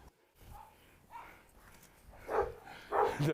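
A Cane Corso and other dogs give a few scattered barks and yips at moderate distance, fairly faint, with short gaps of quiet between them.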